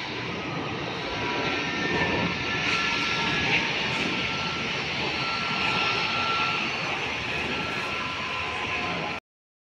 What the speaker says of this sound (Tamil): சூப்பராக ஃப்ளைட்டு இறங்குறதும் ஏறுறதும் சூப்பராக தெரிஞ்சு பாருங்கள்